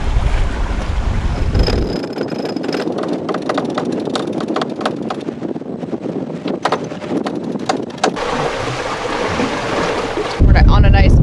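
A sailboat cruising off Georgetown on a beam reach in very low waves, with steady wind noise and water rushing along the hull, rhythmic creaks and taps from rigging, and a deeper gust of wind at the end.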